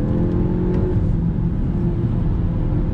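A 2020 Honda Civic Sport Hatchback cruising on the road, with steady engine hum, tire roar and a low, constant whir filling the cabin, no one speaking.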